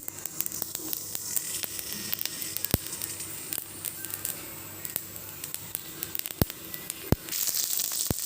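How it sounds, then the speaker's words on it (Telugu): Green chillies frying in hot oil in a kadai, after cumin and fenugreek seeds, for a sesame gongura chutney; a close, continuous crackling sizzle with sharp spits and pops scattered throughout. "ఇదండి పచ్చిమిరపకాయలు ఆయిల్లో వేసి వేయించుకుంటాం"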